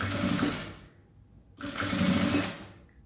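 Sewing machine stitching piping onto the edge of a unisex zipper pouch, two short bursts of fast whirring stitches separated by a brief pause, close up.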